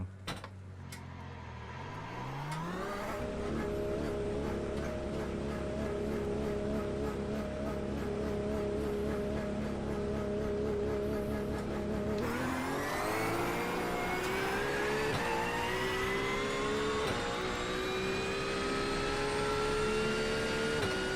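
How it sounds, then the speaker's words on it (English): A GT3 race car in a racing video game at Bathurst in the rain, its engine droning then rising through gear changes, a high straight-cut gear whine climbing steadily over the loud, continuous run. "The straight cut gears also, whenever you reach 6th gear, they really start to whine."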